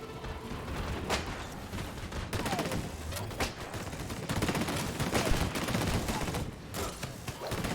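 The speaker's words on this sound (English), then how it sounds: "Who's shooting me here?" Sustained gunfire from the video game Disintegration: rapid, dense volleys of shots with several sharp, louder cracks standing out, continuous throughout with little pause, partly under a voice.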